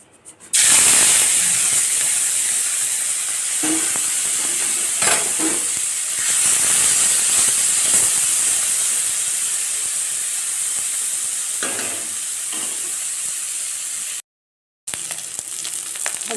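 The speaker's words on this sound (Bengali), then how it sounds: "আমি চিংড়ি মাছটা ভেজে নেব" Small shrimp frying in a hot wok give a steady, close sizzle and hiss that starts abruptly and holds loud for most of the time, with a few brief stirring bumps and a short gap of silence near the end.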